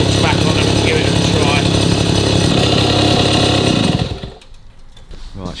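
A 1953 Itom Astor Sport two-stroke motorcycle engine revs with a loud, raspy buzz close by, then shuts off abruptly near the end, leaving quiet handling noises and brief talk.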